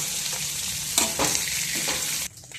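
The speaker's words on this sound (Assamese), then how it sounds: "এয়া পনীৰখিনি ভজা হৈ গ'ল, এতিয়া নমাই ল'লোঁ।" Paneer frying in oil in a pan, a close, continuous hissing sizzle with a few stirring scrapes, which cuts off abruptly near the end.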